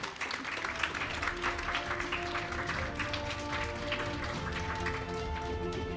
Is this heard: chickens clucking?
no